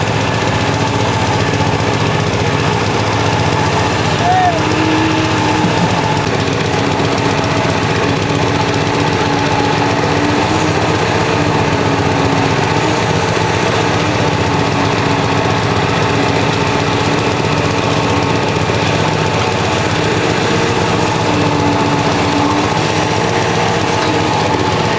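An engine-driven concrete vibrator runs steadily while compacting pile cap concrete on a bridge construction site, a loud continuous engine drone with buzzing vibration and no pauses.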